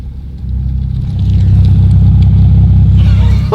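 A straight-piped widebody 2020 Toyota Supra engine being put in drive, a loud, deep, throbbing idle that swells and settles into a heavy burbling rumble close by.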